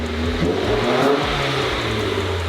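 Nissan S15 fitted with a new NASR exhaust revs close by, loud throaty engine notes swelling and falling in quick pitch sweeps over a steady rumble.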